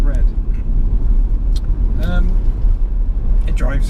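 Inside a red SsangYong Tivoli XLV with automatic gearbox on the move, a loud, steady low engine and road rumble fills the cabin while a person speaks over it.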